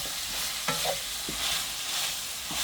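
Meat sizzles steadily in a hot pan, with a few sharp scrapes of stirring over a constant hiss, and no voices.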